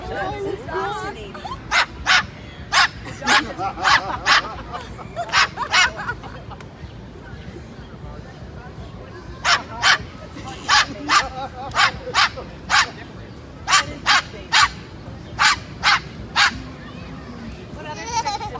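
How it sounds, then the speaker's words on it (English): A cockatoo in New York barks like a dog in repeated sharp yaps, in bursts of several barks with pauses between, close and loud over a murmur of voices and people talking. "Oh, now she's barking at the dog."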